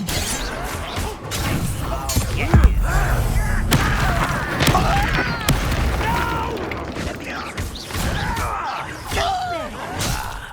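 Repeated heavy booms from Confringo blasting spells burst during a fight in Hogwarts Legacy, amid combat clatter and a voice speaking over the explosions.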